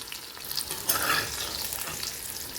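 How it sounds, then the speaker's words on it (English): Large pieces of eggplant frying in oil on high heat, a loud, close, continuous sizzle with a brief crackling swell as they are stirred, no voices. "Fry them on high heat, and those are done."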